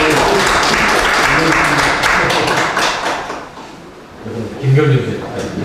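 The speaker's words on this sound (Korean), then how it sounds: "박수 한번" Applause from the audience at an academic conference, a dense, sustained wash of clapping that thins out toward the end, with talk mixed in around it.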